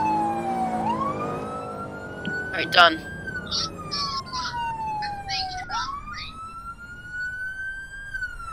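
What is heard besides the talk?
fire truck siren in a video game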